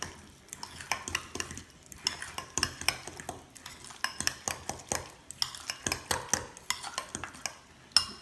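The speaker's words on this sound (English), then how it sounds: "then we start mixing and tasting" Salsa verde pork being stirred in a pan with a spoon, a steady run of close scraping and clinking strokes against the metal, with no talk.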